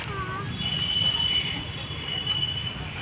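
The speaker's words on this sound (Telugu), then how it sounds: "ట్రైన్ వస్తుంది, ట్రైన్ వచ్చే శబ్దం వస్తుంది చూడండి" An approaching train gives a steady low rumble with a thin, high wheel squeal drawn out across the middle. A voice is heard briefly at the start.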